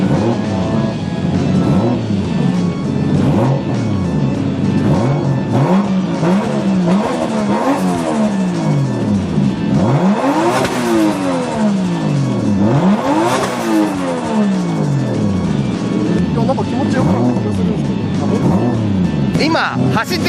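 A car accelerates on a test drive, its engine revving up and down in repeated swells, loud and close throughout, with cabin noise alongside.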